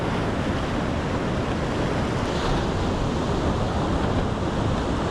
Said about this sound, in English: nice waves